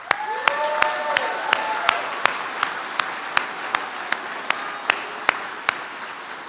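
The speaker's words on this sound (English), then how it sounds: "So let's give a round of applause for our soldiers." Audience applause for soldiers at an Army retirement ceremony, a steady wash of clapping with sharp individual claps standing out in a regular rhythm, tapering slightly toward the end.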